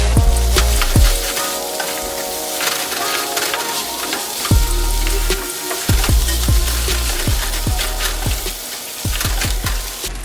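Day-old rice stir-fried for fried rice, a loud steady sizzle from the hot pan with repeated sharp scraping and tossing knocks of the spatula throughout.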